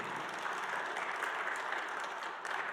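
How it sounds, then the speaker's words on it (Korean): A church congregation claps together during a sermon, a steady, fairly soft wash of applause that carries evenly throughout. "박수 좀 해봐요. 박수."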